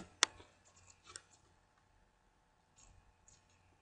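A single sharp, close mouse click on a save button, then a few faint ticks and soft handling noises in a quiet room.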